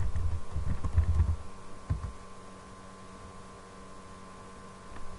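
Fingers tapping on a computer keyboard, a quick burst of close clicks over about two seconds that gives way to a quiet room hum.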